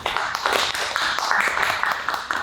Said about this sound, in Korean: 네, 여러분 지금 박수 소리 들리시죠?